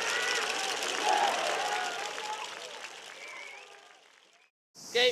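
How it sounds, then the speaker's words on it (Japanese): A stadium crowd at a Kagoshima high school baseball tournament applauds the Sendai team, steady sustained clapping that gradually fades out before a voice cuts in at the end. "この夏最後まで諦めない姿を見せた仙台ナインに拍手が鳴り止みませんでした。"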